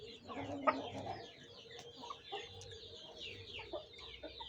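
Aseel chickens, including a buff-coloured hen, clucking in a run, with soft repeated clucks and chirps over background noise and one sharper call near the start.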